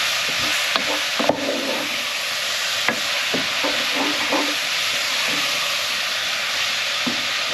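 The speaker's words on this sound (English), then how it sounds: "Just going to add the mushrooms." Mushrooms going into a pot of creamy chicken soup on the stove, with a steady loud sizzling hiss throughout and a few soft clunks and stirring knocks scattered over it, no voices.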